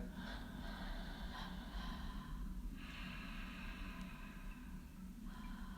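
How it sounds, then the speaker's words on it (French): Ujjayi yoga breathing through a constricted throat makes a slow, rasping, ocean-like rush. Three drawn-out breaths sound close and steady over a constant background hiss. "essayez de resserrer à peine la gorge. Et ça fait comme un bruit d'océan, ça fait comme un râle"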